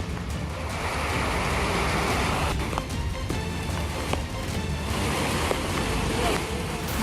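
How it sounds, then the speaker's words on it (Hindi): Heavy monsoon rainwater rushes down the stone steps of a mountain at Junagadh, Gujarat, a loud, continuous broadband roar of churning water lasting throughout with no voices. "जूनागढ़ में एक पहाड़ की सीढ़ियों से बारिश का पानी इतनी तेजी से बहने लगा"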